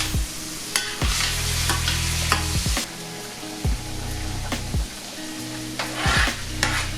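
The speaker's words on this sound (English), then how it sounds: "Then we're gonna give that a mix and mix and get it all combined together" Vegetables for pasta sizzle steadily in a hot pan while a spoon stirs and scrapes through them in repeated strokes, loud and close, with no talking.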